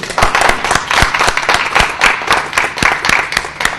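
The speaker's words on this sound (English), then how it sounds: "Give her a huge round of applause." Sustained applause from a group, many hands clapping steadily and densely at moderate volume with no voices standing out.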